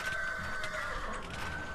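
A horse neighs in a video game set among castles in the sky, a clear whinny with clip-clopping hooves steady and close throughout, with no talk over it.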